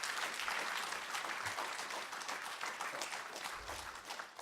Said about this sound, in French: j'aimerais qu'on applaudisse la délégation du Cambodge qui est là